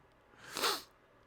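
A single short sneeze from a man during a gaming livestream, quiet and close, standing alone in an otherwise near-silent moment.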